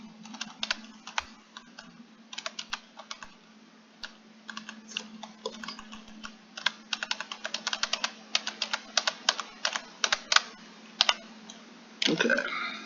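Irregular bursts of clicking keystrokes on a computer keyboard, close and fairly quiet over a low steady hum, with a louder clattering flurry near the end.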